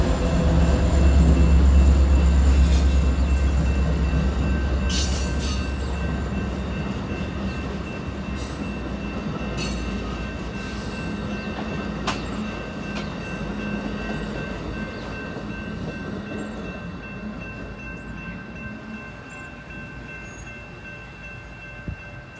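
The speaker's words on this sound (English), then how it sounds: "Amtrak train 711 was on the move again," An Amtrak train passes a grade crossing near Jack London Square in Oakland, with a loud deep rumble at the start, then steady rolling wheel and rail noise that slowly fades, joined by brief higher clanks and crossing tones.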